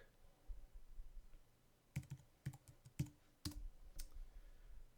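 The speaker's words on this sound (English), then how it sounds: "I'm going to set my email and type in my password." Soft clicking keystrokes on a computer keyboard while an email and password are typed, a quiet, irregular run of taps clustered in quick bursts with faint gaps between.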